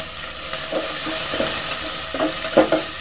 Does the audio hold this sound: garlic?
yes